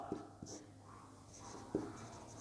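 Chalk or marker writing on a board during a geography lesson, soft scratching strokes with a few light taps, faint under room noise.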